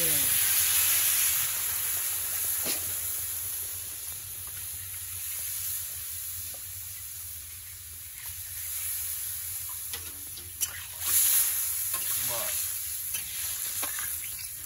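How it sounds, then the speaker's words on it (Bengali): Potato and pointed gourd curry simmers in a pan after water is added, with a steady, moderate bubbling sizzle and scattered stirring scrapes, plus a brief louder knock near the end. "জল দিয়ে নেড়ে নেওয়া হবে।"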